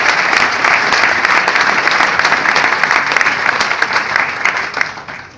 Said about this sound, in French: c'est bien pour ça qu'il mérite vos applaudissements